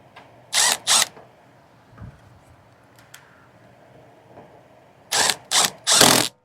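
A ratchet tightens 5/16 bolts on a Lawn-Boy 10666 mower, with two short bursts of rapid, loud clicking followed after a quiet gap by three more bursts close by, along with faint handling noises in between.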